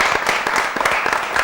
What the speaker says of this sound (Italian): Per cortesia, possiamo fare un applauso al nostro...